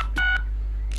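Phone number dialing tones play inside the LEGO City Undercover video game, a quick run of short electronic keypad beeps followed by a brief pause and another tone, with no talking over them.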